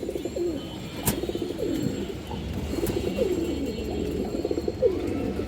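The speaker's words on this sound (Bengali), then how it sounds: "একদম রেয়ার একটা কবুতর" Pigeons at a market stall, including rare old-bloodline breeds, coo steadily in low repeating phrases close by, with a continuous murmur of background noise and no speech.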